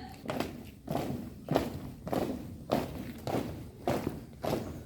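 Students marching in formation at a school student-council handover ceremony, a steady series of about seven heavy, evenly spaced footfalls landing together at mid distance.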